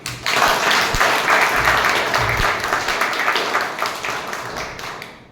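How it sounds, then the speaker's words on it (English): Toastmasters club audience welcoming a speaker with loud, dense applause that starts abruptly, holds steady for several seconds and then fades slightly toward the end. "let's invite, with a thunderous round of applause, the very talented and the very experienced Toastmaster Ashish"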